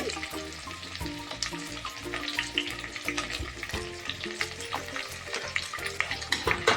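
Tomato, green chilli and ginger garlic paste sizzle and get stirred in a pan, a quiet crackling fry with occasional utensil taps, while tonal background music plays along.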